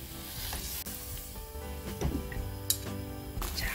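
Taro stems stir-frying in anchovy and kelp broth in a pan, a continuous bubbling sizzle with a few clinks and scrapes of a utensil, no voices.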